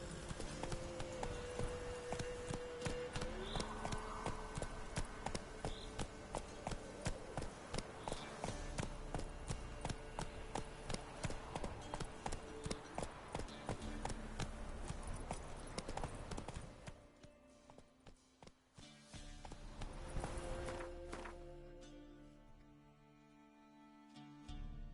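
Roach the horse's hooves clop in The Witcher 3, a rapid, steady galloping rhythm of hoof strikes that slows and thins out toward the end before a few scattered steps return.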